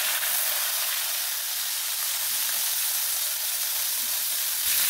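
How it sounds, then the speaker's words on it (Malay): Blended spice paste sizzles in a small amount of hot oil in a pan over medium heat, a steady bright hiss that runs unbroken with no talking. "Okay, kita tumis bahan kita kisar ni sampai dia pecah minyak dah."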